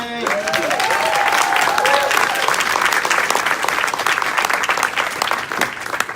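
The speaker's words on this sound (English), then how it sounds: "Ladies and gentlemen, a big round of applause for Vivith K." Loud crowd applause for a contestant at a Comiccon live battle event, a sustained roar of clapping with a brief sung or whooping voice rising over it at the start.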